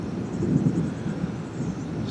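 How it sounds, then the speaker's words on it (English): Thunder from a summer rainstorm over dry, rocky lava-rock country rolls as a low, sustained rumble, steady and moderately loud, with no voices. "Still got the thunder boomers going on."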